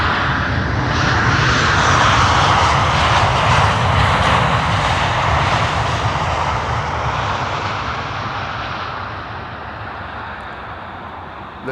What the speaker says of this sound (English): This is KLM flight 1470 arriving from Marseille.